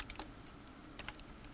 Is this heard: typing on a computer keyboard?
yes